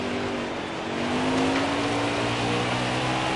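A race car engine drones loudly and steadily at high revs on track at Texas Motor Speedway, with a slow rising pitch and no voices over it.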